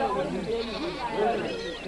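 A goat bleats in a wavering, quavering cry that rises and falls across a couple of seconds, heard under a narrating voice.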